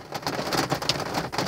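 Heavy rain pounding steadily on a surface, dense and close, a constant hiss of countless drops over a brief moment with no voices.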